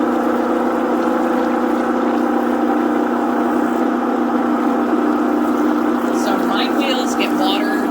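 A lapidary cabbing machine runs with water flowing while grinding turquoise, a loud, steady mechanical hum with a watery wash throughout and a few brief higher scrapes near the end.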